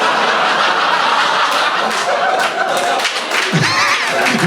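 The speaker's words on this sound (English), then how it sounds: "No, you can't clap that, actually." A comedy club audience laughing and clapping after a stand-up joke, a burst of close applause mixed with chuckles and snickers that carries on throughout, with a voice talking briefly over it.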